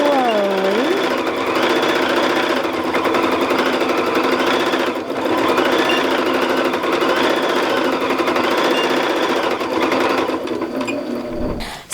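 A sewing machine quilts a row across a lap quilt made from a fabric panel, stitching with variegated thread. Its motor hums loud and close in one steady, unbroken run, then cuts off abruptly at the end. No voices are heard.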